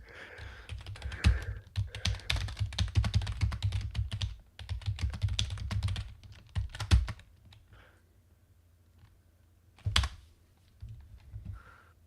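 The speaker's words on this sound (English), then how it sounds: "Angry typing." Angry typing on a computer keyboard: rapid, forceful bursts of close key clatter in dense flurries, pausing briefly, then a few sharp isolated hard keystrokes near the end.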